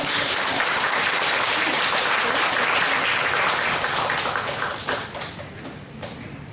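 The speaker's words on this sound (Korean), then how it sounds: "우리 목사님을 큰 박수로 모시도록 하겠습니다." A church congregation at a Sunday service claps loudly to welcome an elderly emeritus pastor to the pulpit, dense sustained applause that thins and tapers off into scattered claps toward the end.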